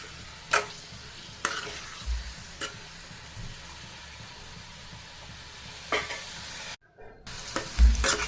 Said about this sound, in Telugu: ఇందులోనే ముందుగా ప్రిపేర్ చేసుకున్న కాకరకాయలను వేసుకోవాలి కాకరకాయలు వేయగానే కలుపుతూనే ఉండాలండి